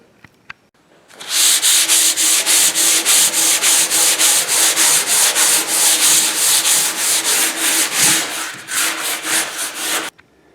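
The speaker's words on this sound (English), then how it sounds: "now that we've got the top of the table rough sanded" A sander works over a rough wooden farmhouse tabletop. After a brief quiet start it runs loud and steady with rapid pulsing strokes for about nine seconds, then cuts off abruptly.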